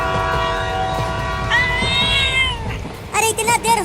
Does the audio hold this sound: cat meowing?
yes